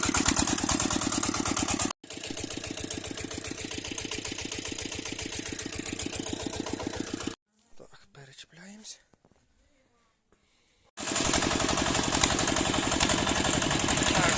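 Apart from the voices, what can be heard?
small farm tractor engine idling and revving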